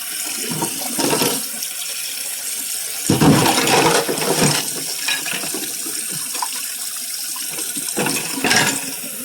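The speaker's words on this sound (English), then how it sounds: "Get the sink filled up. Make sure it's hot, but not too hot." Hot tap water running into a kitchen sink as it fills, a steady close rushing splash that continues throughout with slight surges, and no voices.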